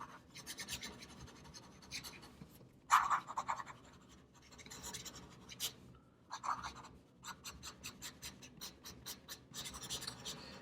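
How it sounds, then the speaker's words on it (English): A Waterman Expert III fountain pen with a fine nib scratches quickly across paper, close and soft, in short bursts of strokes separated by brief pauses. "Now if we try fast writing"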